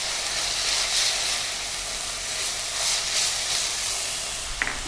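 Green chilies sauteing in a hot pan while being cooked down for vadacurry, giving a steady, even sizzle and hiss that holds throughout, with a brief clink near the end.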